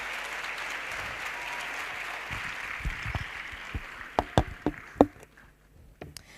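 Applause after a speech at a youth week event, steady clapping from a gathered audience that thins into a few louder, separate claps and knocks near the end.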